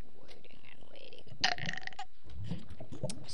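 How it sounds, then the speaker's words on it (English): A single short burp lands in the middle of quiet game sounds and a soft voice, brief and fairly close. "Excuse me, I just burped."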